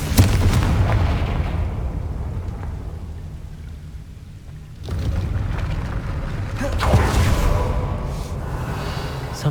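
A Confringo blasting spell in Hogwarts Legacy erupts into a loud rumbling explosion that decays into a hissing, rain-like wash of debris, with a second surge of blast noise a few seconds later.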